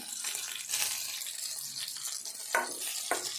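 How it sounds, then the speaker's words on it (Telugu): Green chilies fry in a pan for a chili-peanut chutney, giving a continuous close sizzle with brief louder crackles and stirring clatter near the end. "పచ్చిమిర్చి ఇట్లా దూరగా వేయించుకోవాలి ఇంక కొద్దిసేపు వేగాలి"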